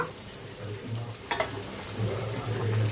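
Chopped onions frying in a pan as the base for a spicy prawn masala, giving a steady close sizzle with scraping stirs and a few sharper clatters of the spoon against the pan.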